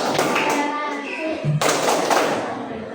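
Children clap together in a rhythmic tolerance clapping chant, quick regular claps under their chanting voices, close and lively.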